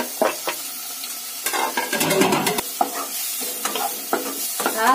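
Ginger, garlic and tomato frying with browned onion in a pan for a snail curry, a crackling sizzle broken by repeated scraping strokes of a spatula and occasional clinks against the pan.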